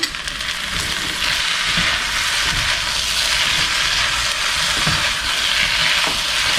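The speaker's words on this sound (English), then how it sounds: "as you can still see, the rice is still nice and sizzling." Steady, loud sizzling and crackling of kimchi fried rice in a hot pan, continuous hiss with small pops throughout, no voices.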